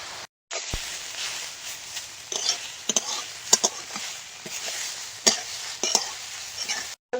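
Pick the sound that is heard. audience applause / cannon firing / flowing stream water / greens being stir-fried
greens being stir-fried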